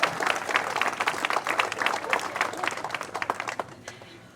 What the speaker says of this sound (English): So let's give them a round of applause for their play.